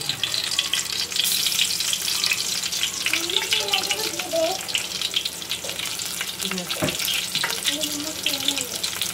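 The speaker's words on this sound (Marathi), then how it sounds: "लसूण आपला फ्राय झाला ना गॅस स्लो करायचा" Garlic frying in a pan while fish curry is prepared, giving a loud, continuous close sizzle and crackle with some watery hiss and brief background voices.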